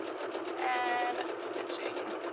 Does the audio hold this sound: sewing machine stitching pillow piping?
yes